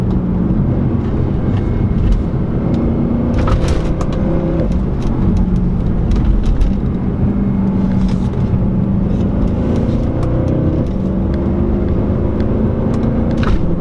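A 2014 Mercedes C63 AMG is taken through corners, its engine note rising and falling continuously at close range with steady road roar and no talk.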